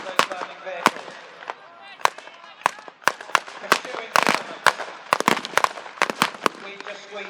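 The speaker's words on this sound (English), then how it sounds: "If you listen to shots through the wreckage of those burning vehicles." Gunfire at a WWII tank battle re-enactment, with sharp blank shots cracking out irregularly near and far among burning vehicle wrecks, about a dozen loud reports over a steady outdoor rumble.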